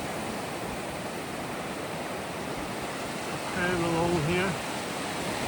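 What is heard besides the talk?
Pacific Ocean waves on Cairns beach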